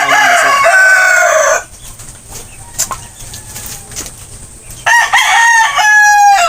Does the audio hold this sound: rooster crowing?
yes